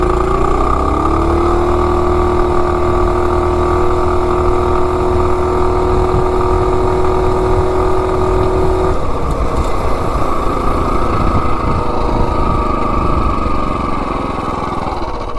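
A stock Ghost BT200 minibike with a 212 engine, billet flywheel and rev limiter removed, roars loud and steady through a 0 to 30 run, its pitch climbing then holding high, shifting near the nine-second mark.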